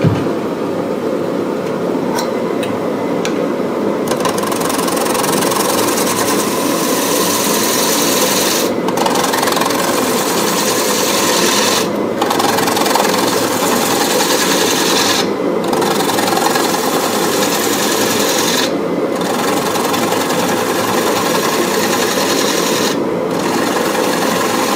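Green wood bowl blank spinning on a lathe as a cutting tool shaves it, a steady rough scraping and rasping with a regular interruption every few seconds, close and continuous without speech.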